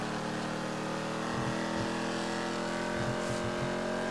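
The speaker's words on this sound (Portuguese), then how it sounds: "eu tô apaixonado nesse som desse carro" Engine of a car in GTA, a steady, loud throaty drone with crackling pops from the exhaust near the middle and end, heard alone without talk.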